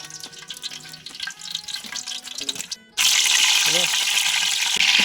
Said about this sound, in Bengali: তেলটা গরম হয়ে গিয়েছে, আমি গরম মশলার এলাচগুলোকে ফাটিয়ে রেখেছিলাম, এগুলো আমি দিয়ে দেবো